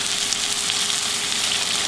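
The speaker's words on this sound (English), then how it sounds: "And then we're going to pour it into the skillet." Cornstarch-thickened stock hits a hot skillet for Salisbury steak gravy, producing a steady, close hiss of sizzling that holds evenly throughout with no voices.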